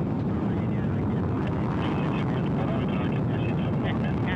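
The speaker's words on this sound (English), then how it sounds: "The engines are at maximum thrust, booster ignition at full throttle" Soyuz rocket engines roar at liftoff on the Soyuz MS-26 launch to the International Space Station, a loud, dense, continuous rumble that holds steady throughout, with a commentator's voice under it.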